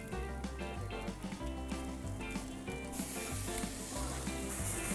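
Duck breast sizzles steadily on a high-heat grill, a continuous hiss and crackle that grows brighter toward the end, with music playing underneath.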